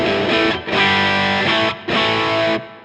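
Distorted electric guitar chords through an MXR Wylde Audio Overdrive pedal ring out thick and sustained, three strums separated by brief pauses, with a warm, fuzzy overdriven tone.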